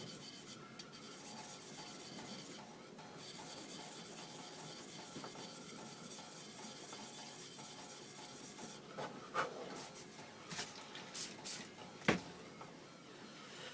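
Steady scratchy rasp of 120-grit abrasive worked by hand across a G10 knife handle, continuous close strokes with a few sharper scrapes and knocks near the end, no talking.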